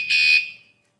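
A WSDCAM screw-mounted vibration anti-theft alarm gives a single short, loud, piercing warning beep, close to the microphone, that cuts off quickly and leaves silence.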